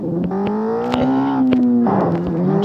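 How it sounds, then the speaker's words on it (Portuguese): Motorcycle nitro boost in the video game Gangstar Vegas: a loud, steady whining engine tone climbing in pitch, dipping once, then surging again, with scattered clicks and impacts from the game. "Olha, o nitro dela vai longe"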